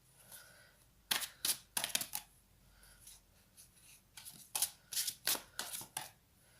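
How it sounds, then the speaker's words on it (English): A deck of tarot cards is shuffled close up in quiet, brisk bursts of riffling and snapping card edges, separated by short pauses, with no talk. "just have a little bit more of a shuffle"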